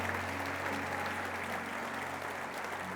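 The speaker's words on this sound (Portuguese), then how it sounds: "Pode aplaudir as mulheres" Steady, dense audience applause filling a church service as the congregation claps for the women, sustained and even throughout with no talk over it.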